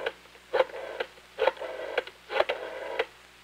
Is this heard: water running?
no